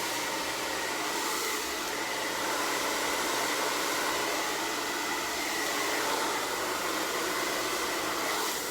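A handheld blow dryer runs continuously while drying hair at the roots in a salon, a steady loud airy rush with a constant motor whine and no speech.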